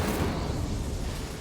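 Incendio fire spell cast in Hogwarts Legacy, a soft, sustained rumbling whoosh of flame, fairly quiet and steady without distinct bursts.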